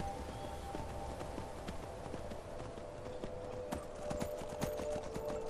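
Horse hooves clip-clop steadily in Skyrim, a brisk regular gallop heard alone over a low game ambience at moderate loudness.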